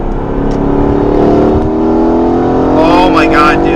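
A tuned 650whp Mercedes-AMG accelerates hard with a loud, close engine roar that climbs steadily in pitch through the pull. Faint tire or wind noise runs underneath.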